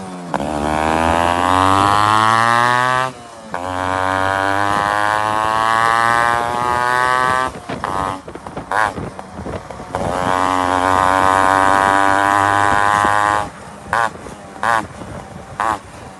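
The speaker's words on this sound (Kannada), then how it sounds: "ನೀವೀಗ ಕೇಳಿಸ್ಕೊಂಡಿದ್ದು Chrome coated inbuilt silencer sound." A custom Yamaha RX135 two-stroke drag bike with a chrome-coated inbuilt silencer exhaust revs loud and close, its crackling buzz swelling and falling in long pulls, then breaking into short sharp throttle blips near the end.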